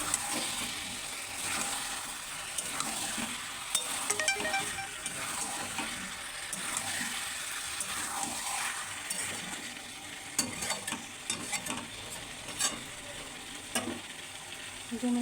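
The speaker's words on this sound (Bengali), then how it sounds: "নাড়াচাড়া করবো।" Meat curry with potatoes stirred in a frying pan with little oil: continuous soft sizzling under repeated scraping and clinking strokes of a spoon against the pan, close and steady throughout, with no talk.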